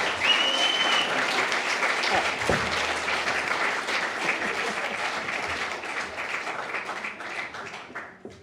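An awards-night audience at a First Nations media ceremony gives steady, loud applause for Lifetime Achievement Award honourees, a dense continuous clatter of many hands that holds for several seconds before fading slightly at the close.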